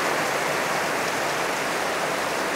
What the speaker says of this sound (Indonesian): ini lagi hujan gede banget